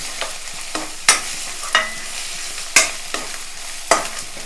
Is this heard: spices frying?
yes